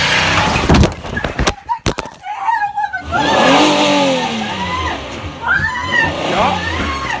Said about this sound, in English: She's starting the car up.